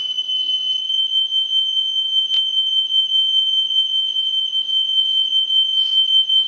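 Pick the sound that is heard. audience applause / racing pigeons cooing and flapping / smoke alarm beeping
smoke alarm beeping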